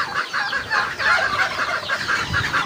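A red junglefowl hen clucks repeatedly in a steady run of short, close calls, with a faint background hiss.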